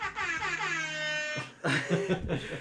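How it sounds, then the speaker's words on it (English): A sustained air horn sound effect blares with a bright harmonic tone for over a second, then cuts into a jumble of voices and laughter. "you got that air horn ready?"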